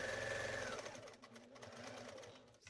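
A sewing machine stitches a pumpkin-shaped trick-or-treat bag panel, running steadily and loud for under a second, then a softer, uneven mechanical whir and clicking of the needle continues up close.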